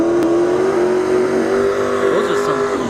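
The Jeepers Creepers drag racing car makes a shakedown run at Battle in the Bay, its engine holding a loud, steady drone that shifts slightly in pitch throughout.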